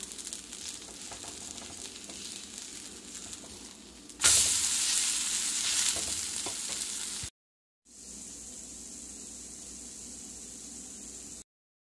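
Horse gram dosa sizzles in oil on a pan, a steady close hiss that surges louder around the flip, breaks off briefly, then settles back into a constant frying crackle.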